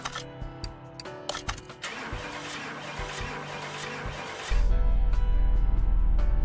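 A car engine in the racing-repair game Car Mechanic 2018 cranks after a fuel pump job, then catches and settles into a loud, steady idle that runs without revving to the end.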